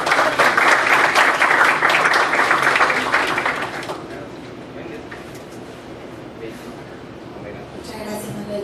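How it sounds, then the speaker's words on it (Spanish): Audience applause welcomes a speaker to the podium at an academic business and IT lecture, a dense, steady roar of many hands for about four seconds that then fades to scattered faint claps and room noise. "la recibimos con un fuerte aplauso."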